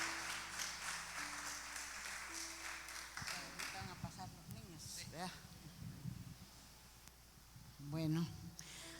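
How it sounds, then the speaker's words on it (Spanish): A congregation at a prison church service claps together, a burst of dense applause that fades after a few seconds, followed by someone speaking in Spanish with light rustling in a reverberant room. "Dele palmas al Rey de Reyes."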